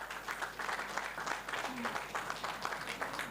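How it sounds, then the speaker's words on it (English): Audience at a Grade 7 farewell luncheon at a Lusaka school applauding the teachers, a dense, steady wash of clapping from a large crowd that continues throughout at moderate level. "A big round of applause for the teachers."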